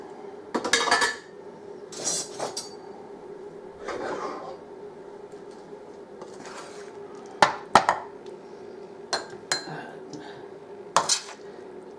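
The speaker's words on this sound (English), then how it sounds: "you're going to put the tomato mixture in there" Spoon scraping and clinking against a dish in scattered bursts as a tomato and lentil mixture is spooned in for a vegetarian moussaka, close, with quiet gaps between strokes.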